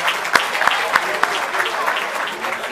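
Audience applause for Stelios Giannakopoulos, a steady patter of many hands clapping with a few sharp louder claps standing out, filling the whole stretch.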